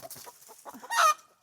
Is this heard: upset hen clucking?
yes